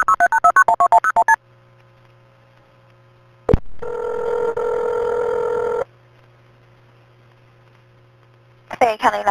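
Rapid bursts of telephone keypad tones open the clip, followed by a steady low line hum and a sharp click. A loud tone holds for about two seconds, and a second run of tones starts at the end.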